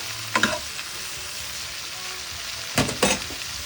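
Onions and vegetables fry in a pan with a continuous close hiss, broken by two short bursts of louder crackling and stirring.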